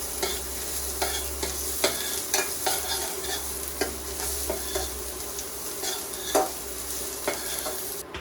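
Crushed garlic with a little urad dal frying in oil for vendakka masala, a steady close sizzle broken by the repeated scrape and clack of a spoon stirring through the pan.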